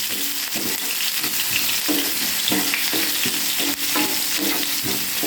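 Onions and chilli stirred in a frying pan for a beans fry, steady broadband sizzle with repeated scraping strokes of the spoon at a regular rhythm, close and continuous, no voices.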